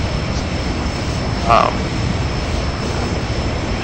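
A Northrop T-38 Talon's jet engine in the X-Plane 11 flight simulator gives a steady, dense roar throughout, flying near Longyear, Svalbard. A brief louder bump breaks the constant wash partway through.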